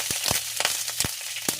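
Ginger sizzles in a hot pan for ginisang monggo, a steady close frying hiss with a few soft clicks of stirring or utensil taps spaced through it.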